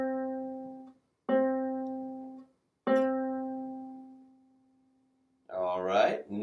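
The third string of a ukulele, tuned to C, is plucked three times. Each clear note rings out and decays, with the last one sustaining longest before someone starts talking.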